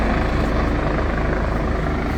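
A nearby helicopter keeps up a loud, continuous rotor thrum with a low pulsing beat, heard alone without talk.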